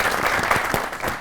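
Studio audience clapping to welcome a guest on a Pakistani political comedy talk show, a brief burst of dense, close applause with no talk over it.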